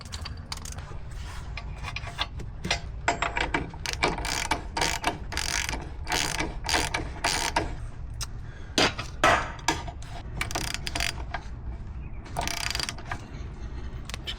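A hand ratchet works on bolts during a BDS 3-inch lift kit install on a 2024 Ford F250/F350, with repeated close clicking strokes in irregular bursts and some metallic knocks, no talking.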